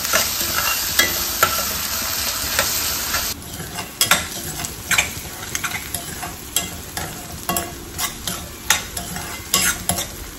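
Onion sautés in a pan with a sizzling hiss while a spoon stirs and scrapes, giving repeated sharp clinks and scraping bursts in an uneven rhythm.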